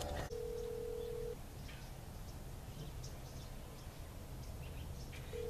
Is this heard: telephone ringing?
yes